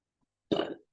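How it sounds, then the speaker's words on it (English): A single short, low burp erupts from a person during an online webinar, lasting under half a second, close and fairly loud in otherwise silent surroundings. "I'm burping, by the way."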